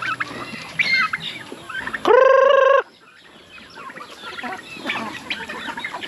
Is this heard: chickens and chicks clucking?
yes